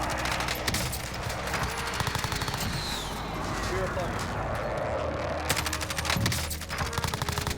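Rapid automatic bursts of Kilo assault rifle fire in the Warzone video game, loud and repeated, with a brief lull in the middle before the shooting resumes, and a voice talking over it.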